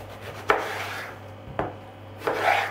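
Knife chopping peppers on a board, three distinct chops spaced about a second apart, each with a brief scraping rasp, close and fairly quiet over a low steady hum.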